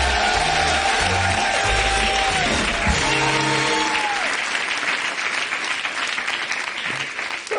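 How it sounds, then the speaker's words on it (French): French TV studio audience bursting into loud, sustained applause after the host's request, with brief tonal music and voices at the start, the clapping thinning slowly toward the end. "Faites un tonnerre d'applaudissements pour Sidonie et Caroline."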